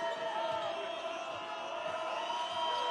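Iranian fans in an arena at a FIBA Asia Championship basketball game, Iran against Jordan, a constant roar of crowd noise with shouts and whoops, steady throughout and heard from a distance.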